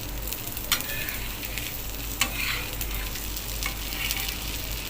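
Cheesy masala dosa cooking on a pan: a steady close sizzle of frying batter with occasional scraping and tapping from a spatula, no voices.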